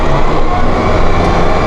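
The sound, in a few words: Massey Ferguson 1755M compact tractor engine revving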